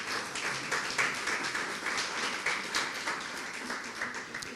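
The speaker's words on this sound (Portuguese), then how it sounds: "uma salva de palmas para Jesus" A church congregation applauds at an evening service, dense continuous clapping from many hands that fills the room at moderate volume, with no voices over it.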